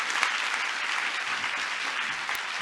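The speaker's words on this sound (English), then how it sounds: "I would like everyone to give the wonderful panelists today a huge round of applause" A science communication panel audience gives the panelists a round of applause: continuous, fairly soft clapping from many hands, spread evenly through the room with no talk.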